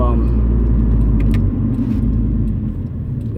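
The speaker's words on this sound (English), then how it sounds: "this is downshift. You don't really get much of a loud rev coming from it" A car's exhaust rumbles loudly up close, a deep steady drone that eases slightly in pitch and volume as the engine note drops.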